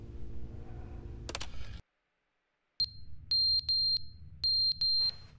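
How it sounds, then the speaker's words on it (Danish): A smoke alarm with old, worn-down batteries chirps a low-battery warning: a burst of clatter, a brief silence, then a run of short, piercing high beeps, some paired, repeating close by over a low background hum. "Det er på grund af, at batterierne, de simpelthen er blevet så gamle, at den begynder at alarmere"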